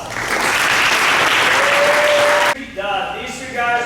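Dense applause from a football banquet audience rings out strongly and evenly, then cuts off abruptly, leaving a short stretch of quieter room sound with a voice speaking.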